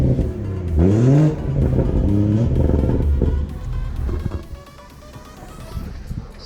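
BMW 340i with B58 engine and muffler-delete exhaust with forged carbon tips, revving loudly up close: a deep rising roar that climbs in pitch, drops and rises again, then settles to a rumbling idle, with a brief voice in the background.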